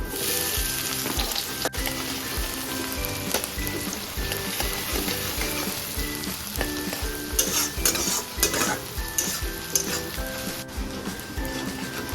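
Chopped onions and whole garam masala fry in hot oil in a pan, a loud, dense, continuous sizzle with crackling spatters and occasional stirring scrapes, steady throughout and close by.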